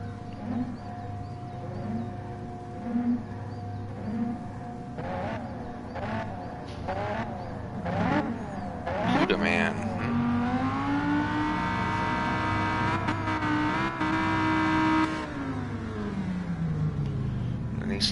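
A Lamborghini race car engine in the GT Sport racing game rises and falls through repeated gear changes, then climbs in one long, steady rev that sweeps back down near the end, mixed with other cars on track.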